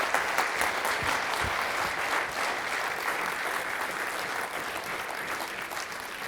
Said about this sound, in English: You don't get away that way, starting the clapping early, Nicola.